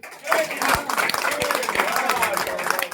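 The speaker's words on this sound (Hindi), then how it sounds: "एक बार जोरदार ताली बजाइए सब लोग" Audience clapping loudly at a Jan Suraaj block-level party meeting, a dense burst of many hands that starts abruptly and holds steady, with a few sharper claps and faint voices mixed in.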